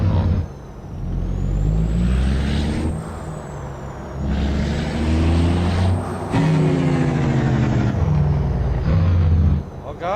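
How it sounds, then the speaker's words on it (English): Heavy truck engine in American Truck Simulator with a modded engine sound, a loud deep rumble that rises and falls with revs and gear changes, with a hiss like an air brake. "Oh wow, this is a new engine sound too."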